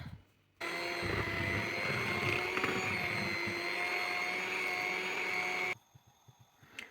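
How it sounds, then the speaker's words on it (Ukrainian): An electric mixer whisks pancake batter of flour, milk, eggs and oil, giving a steady, loud motor whir that runs for about five seconds and then cuts off abruptly. "А тепер взбила муку, значить, з молоком і яйцями тепер вливаю масло, перемішую і буду жарити"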